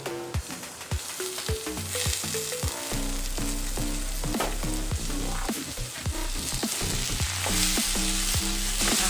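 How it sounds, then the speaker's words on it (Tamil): Tomatoes and onions sautéing in a pan, a steady sizzle with a spoon scraping and tapping against the metal in rhythmic strokes, close and prominent, with a tonal music-like hum underneath and no speech. "தக்காளி வெங்காயம் நல்லா வதங்கி வரணும்."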